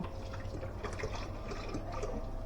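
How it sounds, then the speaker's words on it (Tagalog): Running water splashes and trickles steadily while dishes are washed at a home sink, a continuous close wash with small drips and clinks throughout. "Kailangan, hugasan ko to."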